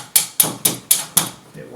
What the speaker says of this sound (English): I'll just go ahead and give it a love tap with a bigger hammer